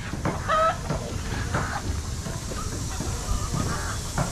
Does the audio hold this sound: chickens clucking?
yes